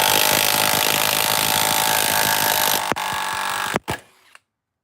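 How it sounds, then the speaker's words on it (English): A DeWalt DCF891 impact wrench hammers loudly and continuously on a bolt clamped in a vise, stripping its threads, then cuts off into a couple of sharp clanks and brief rattling before silence. "Took it right out of the vise. Look at that damage."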